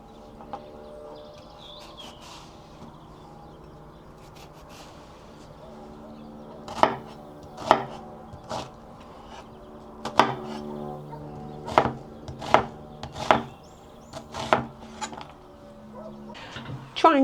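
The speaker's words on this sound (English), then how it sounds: "I'm going to use this to hold on to make it easier to chop the onions." A knife chopping onions on a cutting board, a run of sharp, close chops starting partway through, spaced unevenly and fairly loud over a low hum.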